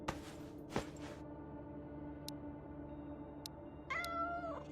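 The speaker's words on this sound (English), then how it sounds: "They made the cat sound so cat-like." A cat in the video game Road to Vostok lets out a short meow near the end, following a quiet stretch of steady in-game ambient hum with a couple of soft thumps early on.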